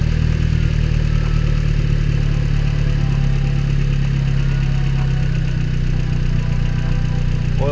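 Boosted Honda Civic EG engine idling through a 3-inch Thermal R&D catback exhaust, a loud, close, continuous deep burble with a steady rumble and no voices.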